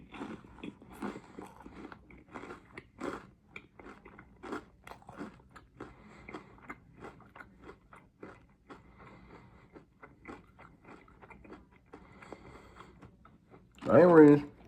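Whataburger onion rings being bitten and chewed up close, a run of crisp crunches and chewing clicks spread through the stretch, followed by a louder burst at the end.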